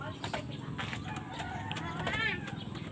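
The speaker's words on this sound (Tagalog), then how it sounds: "Ay, ang daming ibon" A rooster crows among a flock of many birds calling and clucking outdoors, a busy layered chorus at moderate distance, with a person's voice talking over it.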